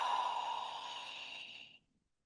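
A single slow, breathy exhalation during a meditation breathing exercise, close and soft, fading steadily over almost two seconds into silence.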